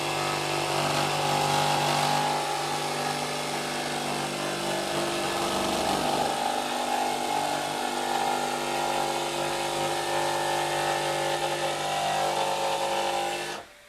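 A RIDGID R86346B 18V sub-compact barrel-grip jig saw cutting wood with orbit off and a dust hose attached, heard as one continuous close buzzing motor-and-blade whine held steady for about thirteen seconds before stopping.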